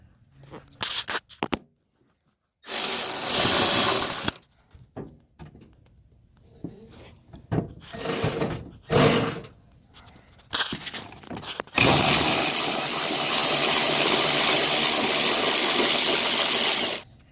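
A bolt being removed on a 2017 Dodge Challenger during a Hellcat conversion: bursts of loud, sustained power-tool whirring alternate with quiet stretches and short metallic clicks and clanks, and a long continuous run closes the sequence.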